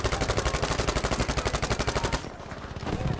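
Rapid automatic gunfire from the Battlefield V video game, a dense, loud stream of shots for about two seconds, then quieter scattered fire and faint rumble.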